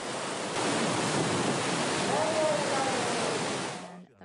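A powerful tsunami surge rushes through a town in Japan after a strong earthquake, sweeping away cars; a dense, roaring wash of water holds steady for several seconds and then cuts off abruptly.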